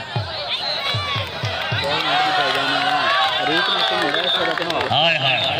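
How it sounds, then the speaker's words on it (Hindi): Crowd noise rises at an outdoor kabaddi match, with shouting and cheering voices swelling over a steady roar and several sharp bursts early on, as a commentator talks loudly over it. "जोरदार तालियां"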